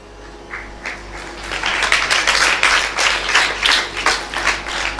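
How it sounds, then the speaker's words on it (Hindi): An audience at a devotional talk breaks into applause, starting as a few scattered claps and swelling into steady, fairly close clapping that lasts several seconds. "ताली वाली मत बजाओ ना"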